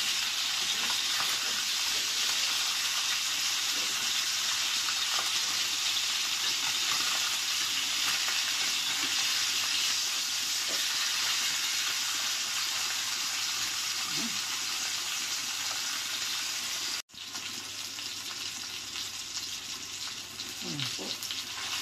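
Salmon frying in a pan, a steady loud sizzle of hot oil running throughout with occasional crackles, briefly cut off near the end before resuming.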